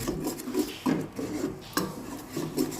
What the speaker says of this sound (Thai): ผัดเคี่ยวจน พริกเครื่องแกงสุก แล้วก็ แตกมันนะ